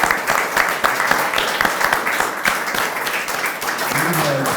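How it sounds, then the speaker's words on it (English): Audience at an art exhibition panel discussion applauds a musician, a loud, dense and sustained round of clapping throughout, with a voice briefly rising near the end. "Ralf, again, applause to you for"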